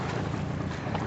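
Small boat's engine running steadily on open water, a continuous broadband rumble with wind buffeting the microphone, close and fairly loud throughout.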